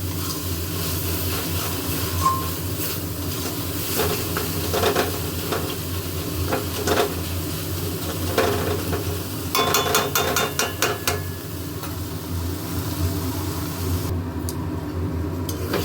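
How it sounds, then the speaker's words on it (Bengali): Food frying in a pan and stirred over a long stretch until crumbly: a steady, loud sizzle runs throughout, broken by repeated sharp knocks and scrapes of a spoon against the pan. "এটা এখন অনেকক্ষণ ভাজবো, এরকমভাবে নেড়েই যাব"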